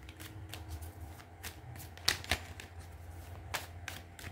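Tarot cards are shuffled by hand during a reading, a soft, close run of riffling and slapping with a few sharper snaps, steady and quiet, with no voices.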